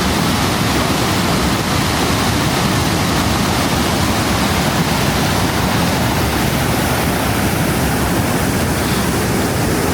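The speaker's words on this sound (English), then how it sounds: "And the waterfall is powerful." Multnomah Falls in Oregon, heard from the top on a foggy day, pours as a loud, unbroken roar of rushing water, dense and constant throughout without a pause or voice.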